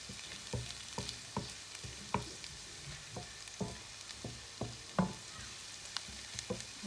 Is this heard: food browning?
yes